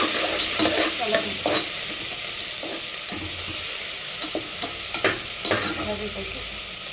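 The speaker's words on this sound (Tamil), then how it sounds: "கிளறி வச்சுட்டேன். நல்லா வெங்காயமும் நம்ம பூண்டு நறுக்கி போட்டிருக்கோம்." Chopped onion and garlic fry in a pan under a constant hiss of sizzling oil, with repeated scraping and clinking strokes of a spoon stirring through them, close and fairly loud.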